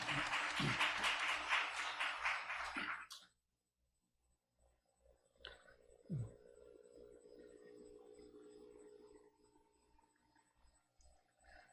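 A church congregation claps in welcome, a brisk round of applause lasting about three seconds that stops abruptly, followed by a quiet room with faint movement and a brief voice.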